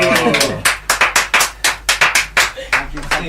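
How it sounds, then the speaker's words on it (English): A few people in a radio studio clap spontaneously after a live performance, with about a dozen sharp, close, distinct claps in a quick, fairly even rhythm that trail off at the end. "Impromptu clapping from us."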